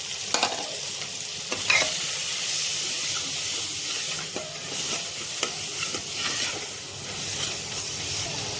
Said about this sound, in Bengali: দিয়ে মশলাটা কষাবো যতক্ষণ না টমেটোটা গলে যাচ্ছে